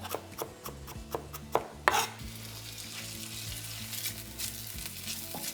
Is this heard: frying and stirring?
yes